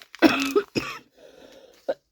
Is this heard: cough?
yes